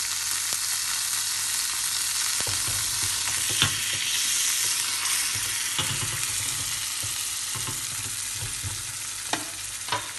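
Paella ingredients with olive oil sizzle steadily in a pan while a utensil stirs them, giving a constant frying hiss broken by scattered scraping and clinking taps.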